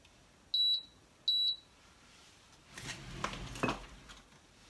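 A combination pressure cooker and slow cooker gives two short, sharp electronic beeps as it is set, followed by faint clatter of handling, all fairly quiet in a kitchen.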